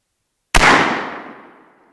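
A single sharp, loud gunshot from an 1858 black powder pistol, a sudden close blast followed by a long fading rumble and decay.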